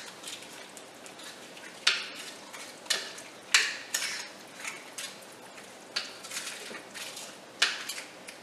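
Spoon stirring stew peas in a Crock-Pot, a series of wet, scraping strokes repeating roughly once a second, close and moderately loud with no voices.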